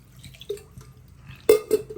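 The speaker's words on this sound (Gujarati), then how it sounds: "એકદમ ઠંડા પાણીથી ધોવાની છે. મસળીને બટાકા ધોવાના છે." Raw potatoes rubbed and rinsed by hand in very cold water to wash out starch, giving soft splashes and drips with two louder sloshes near the end.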